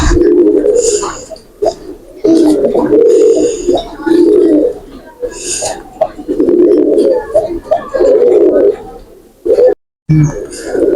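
Tiger-eye breeder pigeons in a loft cooing in repeated throaty bursts, loud and close, with a few soft bird chirps and a voice now and then.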